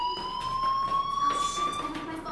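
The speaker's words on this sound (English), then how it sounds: "Hey, do you hear that fire alarm? That means you should be outside." A school fire alarm in the video game Life is Strange sounds a steady electronic tone with high harmonics, continuous and fairly loud across the whole stretch, with faint background sound beneath.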